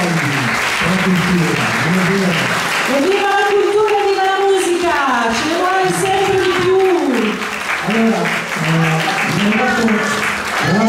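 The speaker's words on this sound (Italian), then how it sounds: "Quindi un grande applauso e grazie ancora a tutta la" Sustained audience applause at an Irish music concert, loud and even throughout, with tonal sounds riding over the clapping.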